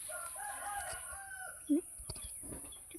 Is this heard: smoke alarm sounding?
no